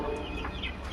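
Native country chickens on a rooftop farm give soft, faint clucks over a steady low background hum.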